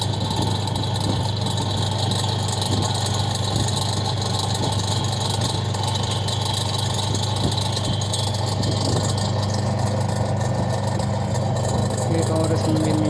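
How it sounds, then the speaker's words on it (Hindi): A Super Asia washing machine with a faulty, noisy motor runs in a steady, loud drone with a constant hum and rattle throughout, close up, with no pauses. "इसमें ये हो गया कि इसकी जो मोटर है उसमें बहुत आवाज़ हो रहा है।"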